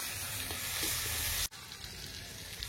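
Onions frying in a wok at an outdoor picnic cook-up, giving a steady close sizzle that drops out abruptly for a moment, then carries on at a lower level.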